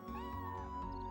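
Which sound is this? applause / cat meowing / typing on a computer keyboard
cat meowing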